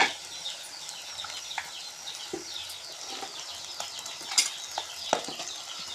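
Mutton goes into a hot pan with a soft, steady sizzle and scattered clinks and scrapes of stirring, fairly quiet and close, with no talking.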